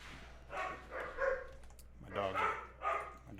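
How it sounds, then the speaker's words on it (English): Several dogs barking in a home during a songwriting session, sharp repeated barks and yips in two clusters, fairly close and loud against a quiet background. "my dogs are freaking out"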